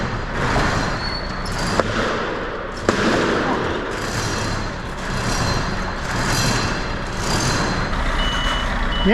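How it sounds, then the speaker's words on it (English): Lorry reversing on a farm, its reversing alarm beeping repeatedly over a loud diesel engine rumble, with a couple of sharp knocks and air hiss, fairly close. "I should have a lorry chasing me in a second."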